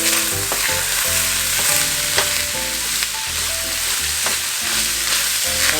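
Onions browning in a frying pan sizzle loudly and steadily up close, with periodic scrapes and clatters of stirring and a low tonal hum running underneath, no voices.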